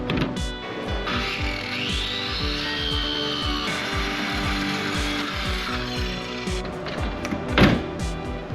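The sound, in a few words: power tool shaving a strip off a truck tailgate lip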